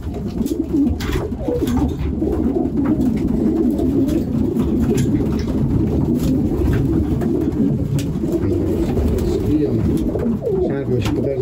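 Pigeons, including young and older birds, coo continuously in low, rolling murmurs near a feeder, forming a dense, close, steady chorus throughout.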